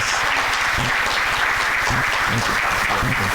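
Steady, full applause from a seated audience at a scholarship luncheon honoring donors, many hands clapping evenly and close throughout without a break.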